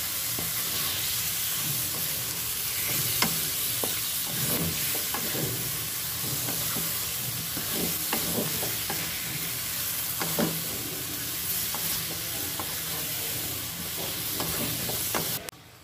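Mixed vegetables fry in a pan, a steady loud sizzle with scattered scraping and clinking from stirring throughout, and no talking.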